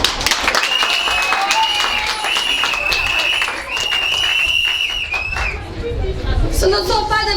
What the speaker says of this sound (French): je demande à toute l'assistance de s'auto-applaudir